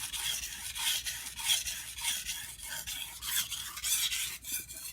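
A handmade Fujiwara santoku knife is stroked across a water stone to remove the burr, producing soft, rhythmic wet rasping strokes, about two per second, close and fairly quiet, with no talking.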